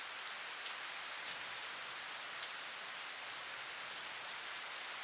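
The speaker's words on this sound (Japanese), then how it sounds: "雨を止めてくれ。" Steady rain patters densely on a surface in a game scene, an even, soft wash of drops with no thunder and no voices.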